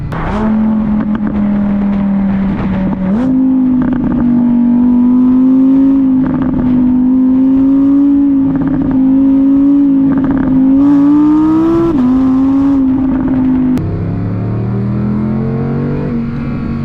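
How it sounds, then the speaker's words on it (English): 2024 Audi R8 supercar in dynamic mode, its engine revving loudly and close with a sustained, climbing tone through gear changes, small pops along the way, then dropping to a lower note near the end. "That's a clear supercar sound."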